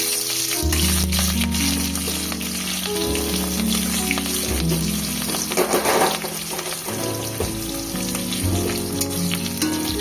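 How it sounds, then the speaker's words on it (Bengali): Onions with a little chilli frying in a pan, making a loud, continuous close-up sizzle and crackle that rises and falls, heard alone. "পেঁয়াজটা হালকা একটু ভাজা হয়ে যাক"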